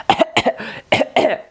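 A person coughs in a series of four or five sharp, close bursts with short gaps between them, each cough carrying some throaty voicing, loud and with no talk over it.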